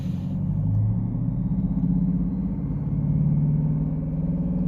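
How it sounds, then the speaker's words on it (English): A Mercedes C Class 2.1 CDI diesel engine rumbles steadily and rises slightly in pitch as it is accelerated, a continuous close drone with no talk. "if we accelerate the vehicle up"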